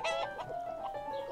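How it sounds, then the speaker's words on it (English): Chickens clucking close by on a farm, a burst of steady, tonal clucks and calls running continuously without any talk over them. "we'd better go and see the chickens then"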